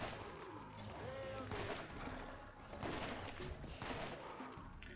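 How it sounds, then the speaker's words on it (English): Repeated gunfire bursts from a gun in Borderlands ring out in quick clustered volleys, loud and sharp, with faint talk underneath. "No, see, burst fire every time."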